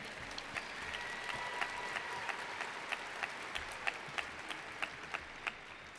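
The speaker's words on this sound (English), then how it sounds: "give yourselves the biggest round of applause" Sustained applause from a 2023 Louis D. Brandeis High School graduation audience: dense, steady clapping fills the hall, with sharper individual claps popping out roughly every third of a second.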